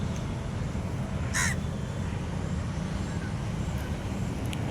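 A crow caws once by a lake in Tamil Nadu during fishing, a short clear call over steady road traffic rumble.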